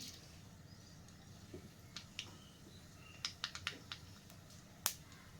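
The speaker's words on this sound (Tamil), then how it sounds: "எண்ணெய் காஞ்சிருச்சு. இப்போ கடுகு சேர்த்துக்கிறேன்." Mustard seeds splutter and pop in hot oil in a home kitchen while cooking carrot rice: sparse, sharp crackles and snaps, faint and scattered, rising into a few quick clusters over a quiet background hiss.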